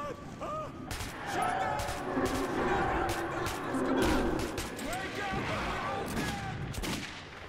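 Gunfire in the video game Metro 2033 Redux, a mix of sharp shots and bursts against a noisy, rumbling background, with someone talking over it.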